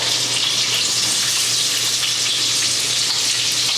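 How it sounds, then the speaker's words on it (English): Brussels sprouts fry in hot oil and butter in a pot, giving a loud, steady, close sizzle that holds unbroken throughout with no voices. "we're going to just gently slide all of these pieces of Brussels sprout"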